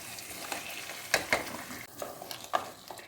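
Onion and potatoes sauté in a pan for batata poha with a soft, constant frying sizzle. A utensil gives a few sharp scraping and tapping clatters against the pan, close by, with no voices.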